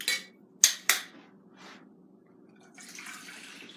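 Water and loose herbs are poured into a cooking pan for a herbal tea infusion: a few sharp clinks and soft drips come first, then a steady, fairly quiet pouring wash near the end, with no voices.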